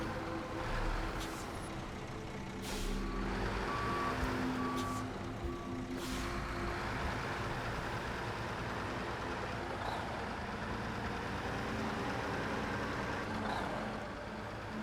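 Logging truck in the SnowRunner video game: a steady low engine rumble throughout, with a few short reversing beeps and brief sharp clicks early on, fairly faint and without speech.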